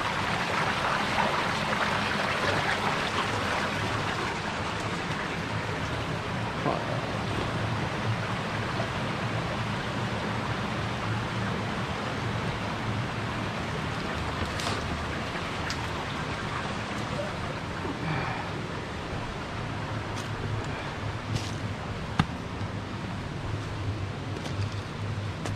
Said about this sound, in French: Cascade, une petite cascade qui coule là derrière.